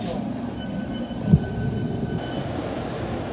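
Steady low rumble of a London Underground Metropolitan Line train running between stations, with a brief thump partway through and a faint hiss joining near the end.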